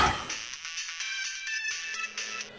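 A mobile phone ringtone plays in a repeating, melodic pattern, moderately close and fairly quiet, with nobody speaking over it.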